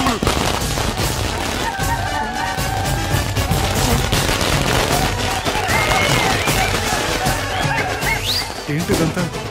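Chaotic blasts and gunfire-like bangs in an action film scene, dense and loud throughout, mixed with shouting voices and horse whinnies.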